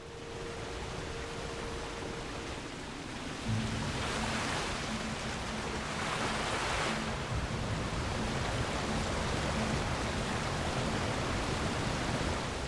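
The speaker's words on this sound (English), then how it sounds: "that's a waterfall leading on to Red Ridge" Waterfall in the World of Warcraft video game, near Redridge, a steady broadband rush of falling water that holds constant throughout with a faint low tone underneath.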